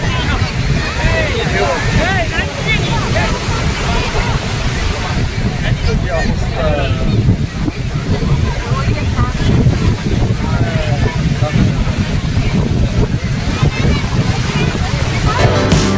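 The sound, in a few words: ocean waves at beach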